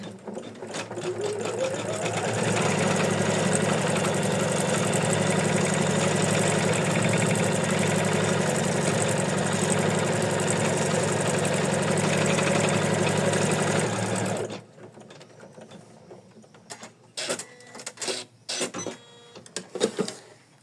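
Embroidery machine stitching a felt heart applique hums loudly and steadily for about fourteen seconds, then stops, leaving scattered clicks and handling sounds.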